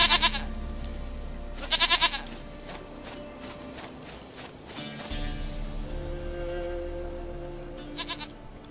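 Goat bleating in The Witcher 3 video game: a few short, bright bleats spaced apart, with a low steady game ambience and a voice speaking in between.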